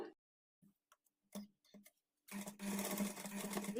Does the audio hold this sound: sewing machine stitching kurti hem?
yes